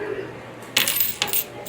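Coins are counted and straightened on a counter, making two quick metallic clinks and jingles close by against a quiet room murmur.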